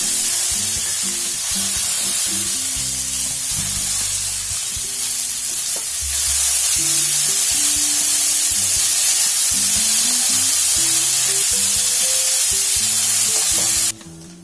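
Steady sizzling of chana dal frying in a hot pan with garlic, with repeated scraping and stirring knocks from a spoon throughout.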